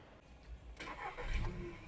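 A 2009 Volkswagen Touran with a 1.6 MPI petrol engine cranks briefly and fires up, settling into a close, steady idle after a short start.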